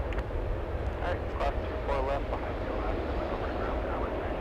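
An airliner taxis on a taxiway at Los Angeles International Airport, its engine noise a steady low rumble throughout with brief higher whines over it.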